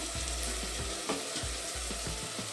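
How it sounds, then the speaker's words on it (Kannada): Masala paste for mushroom pulao frying in a pan, a close, continuous sizzle with a soft rhythmic scraping as it is stirred. "ಹಸಿ ವಾಸನೆ ಹೋಗೋವರೆಗೂ ಅದರಲ್ಲಿ ಫ್ರೈ ಮಾಡ್ತೀನಿ"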